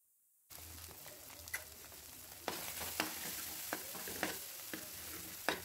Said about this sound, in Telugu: పసుపు సాల్ట్ మొత్తం పట్టేలా ఒకసారి కలుపుకోవాలి.